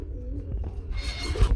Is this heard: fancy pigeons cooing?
yes